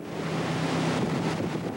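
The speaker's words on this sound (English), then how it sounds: "Fierce Santa Ana winds with gusts up to 60 miles per hour push the fire out of control" Fierce Santa Ana wind gusts up to 60 mph driving a California wildfire in 2003, a loud steady roar of wind buffeting the microphone for the whole moment, with no voices.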